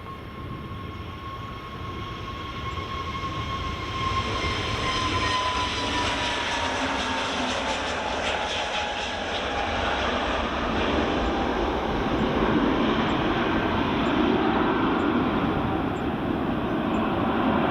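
EasyJet airliner taking off at full power from Edinburgh Airport, a loud jet roar with a whining tone that swells and deepens as the aircraft passes, staying strong to the end, with no voices.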